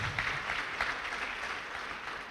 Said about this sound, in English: I would think he deserved a louder round of applause.